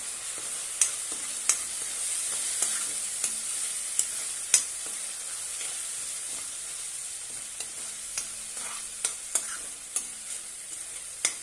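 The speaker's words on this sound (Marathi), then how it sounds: "एक टोमॅटोची पेस्ट बनवलेली आहे ती घालूया आणि छानपैकी परतून घेऊया।" Tomato paste sautés in a pan for dum aloo, a soft steady sizzle broken by a spatula's frequent, irregular taps and scrapes against the metal, close by and with no voices.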